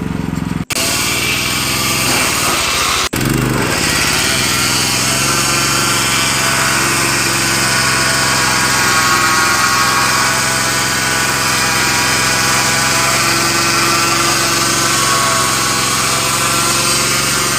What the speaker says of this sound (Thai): ทดสอบใบมีดของเครื่องตัดหญ้าค่ะ ทั้งสามหัวตัดเลยค่ะ